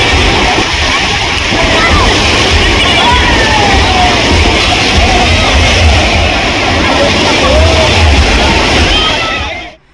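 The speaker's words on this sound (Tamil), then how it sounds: "வேறு ஒரு பக்கம் தண்ணி வாட்டர் ஃபால்ஸ் மாதிரி போட ஆரம்பிச்சிட்டாங்க" Water pouring down like a waterfall at an outdoor water park, a loud steady rushing wash with crowd babble and voices mixed in throughout.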